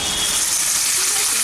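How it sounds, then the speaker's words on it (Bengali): Fried ridge gourd drops into hot spice paste in a pan, giving a steady, loud, close hiss and crackle of frying that holds evenly throughout, with no voices. "এখন আমি এই মশলাটার মধ্যে ভেজে রাখা ঝিঙেটা দিয়ে দিচ্ছি।"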